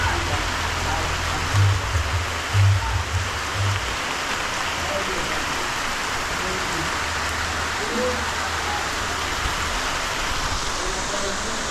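Steady rain falls outdoors in the hills of St Ann, Jamaica, a dense hissing wash that continues evenly throughout, with a few low thumps early on.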